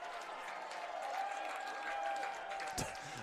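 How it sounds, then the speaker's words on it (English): A college football stadium crowd breaks into warm applause for a fan catching a kicked ball in the stands, a soft wash of clapping and cheers heard from a distance beneath a commentator's voice. "I think they're getting a big applause for catching that."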